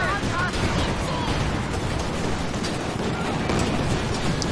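Rapid bursts of gunfire rattle continuously in a Company of Heroes 2 Ardennes battle, dense and loud with scattered shots layered over a constant din, while a voice speaks over it.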